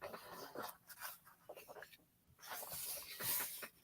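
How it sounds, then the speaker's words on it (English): Dog barking and whimpering in the background, faint, with a few short yelps amid muffled room noise and voices nearby. "Somebody's barking."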